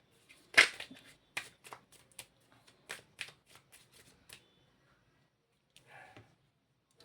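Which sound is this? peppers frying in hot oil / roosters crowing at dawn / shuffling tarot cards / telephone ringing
shuffling tarot cards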